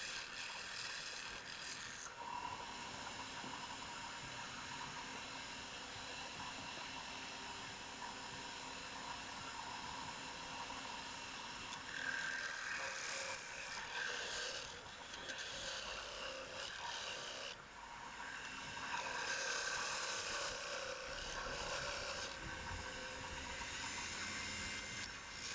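Wood lathe turning a piece of wood, a continuous motor hum with a scraping, rasping cut from the tool against the spinning workpiece, varying in intensity as the cut changes.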